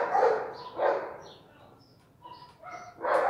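Several dogs bark and yip nearby in quick, uneven bursts, some higher-pitched whines mixed in.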